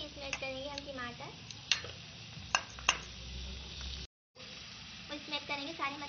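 Potatoes, onion and tomato with spices frying in a pan, soft sizzling with sharp clicks and scrapes of a spoon stirring, fairly quiet and near, with someone talking over it and a short silent break.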